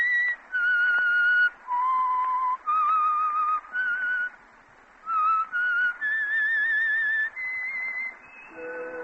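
A melodic whistled tune, clear sustained notes in short phrases with brief pauses between them.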